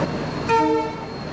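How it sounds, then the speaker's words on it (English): A train arriving at a station in India rumbles close by and sounds a short horn blast midway, a steady tonal honk over the low rolling noise of the cars. "So train should be coming any minute."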